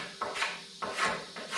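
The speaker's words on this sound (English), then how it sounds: "I just want to come in here and scrape the top so it's less to be" A hand scraper is drawn over the top of the wooden bed boards on a 1956 NAPCO GMC Model 100 truck, making three close, dry rasping strokes with brief pauses between them.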